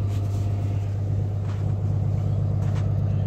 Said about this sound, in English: It idles up by itself until it warms up.